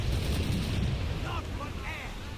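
Ship cannons fire in the video game Assassin's Creed Rogue as a heavy, continuous rumbling boom in the low end, loud and close, with a few faint whistling sounds overhead.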